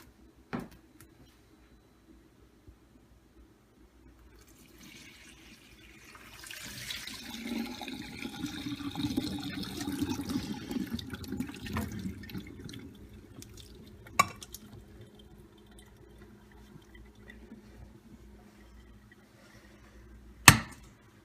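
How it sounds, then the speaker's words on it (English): Boiled potatoes being drained: a soft, steady rush of pouring water swells for several seconds and fades, with a few faint clicks and knocks of the pan around it, quiet overall. "So now we're going to drain the potatoes."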